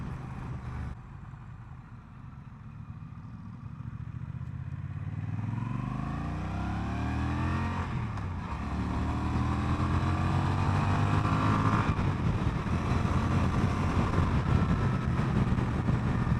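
A Honda Rebel 1100 cruiser motorcycle revs up under throttle, its engine pitch climbing through several rising sweeps as it accelerates, loud and close with heavy wind rush building over the exhaust.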